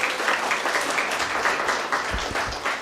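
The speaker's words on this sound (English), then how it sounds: "So we can also give a round of applause for our very able moderators, Jeremy and Aisha." A room of people at a conference opening ceremony applauds steadily, a dense patter of clapping that continues throughout.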